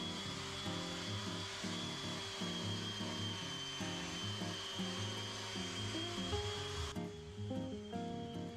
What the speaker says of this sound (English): Now I'll sand the wood filler. I attached my vacuum cleaner to my sander to avoid too much dust.